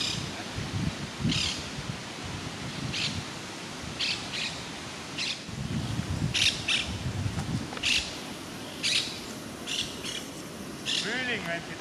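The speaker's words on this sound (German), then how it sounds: "Hier lebt eine der wenigen Papageienarten," Flock of nest-building parrots in a red eucalyptus forest in Uruguay, giving repeated harsh squawks and chirps at moderate distance over steady rustling background noise, with low murmuring that may be voices.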